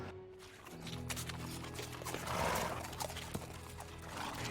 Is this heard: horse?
yes